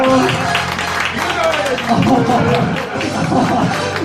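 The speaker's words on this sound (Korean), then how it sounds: "박수 한번 부탁드릴게요." A crowd at a Korean first-birthday doljabi ceremony claps and murmurs together, with continuous applause mixed into lively chatter and voices throughout.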